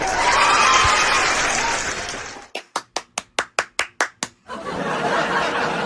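Loud crowd cheering and applause, cut by a run of about ten sharp, evenly spaced drum hits, then the cheering swells again.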